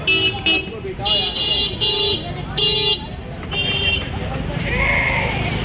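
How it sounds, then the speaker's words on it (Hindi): Barbari goats bleat in a series of four or five loud, nasal calls close by, with someone talking over the animal sounds. "तो दोस्तों ये पहला बकरा देखिए हमने"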